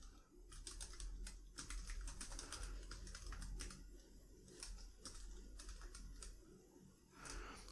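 Rapid keystrokes clatter on a computer keyboard in quick, uneven bursts separated by brief pauses, close and crisp against a low background hum, with no one speaking.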